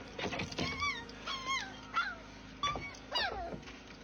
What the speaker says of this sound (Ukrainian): Зараз покажу вам, як ми вирощуємо бойових псів.